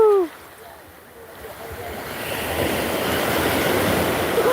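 Ocean waves break on a beach where small children are playing, a broadband rush of surf that swells and grows steadily louder after a quieter start, continuing as a close, sustained wash.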